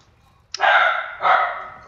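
A dog gives two quick barks close by, the first sharp and the second slightly longer, with quiet background and no talking.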